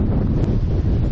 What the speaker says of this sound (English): the wind's blowing me around quite a bit